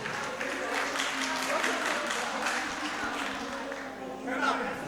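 Applause from a gathering welcoming a speaker, scattered clapping from a crowd heard under a voice speaking over it throughout.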